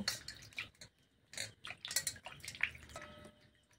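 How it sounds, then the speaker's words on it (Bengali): Fruit being washed by hand in a large bowl of water, with intermittent splashing, sloshing and dripping bursts close up, separated by brief pauses. "প্রথমে ভালো করে কিন্তু আমি ফলগুলো ধুয়ে নেব।"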